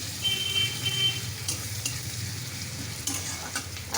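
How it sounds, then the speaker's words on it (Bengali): Garlic paste fries in hot oil, a continuous close sizzle with occasional scraping stirs over it. "রসুন পেস্টটা দিয়ে দেবো তেলের মধ্যে।"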